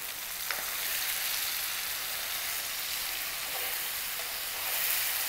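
Chicken sizzles steadily in a pan, a dense continuous hiss with a few faint clinks of a spoon, and no voices.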